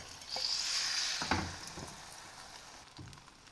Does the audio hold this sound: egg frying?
yes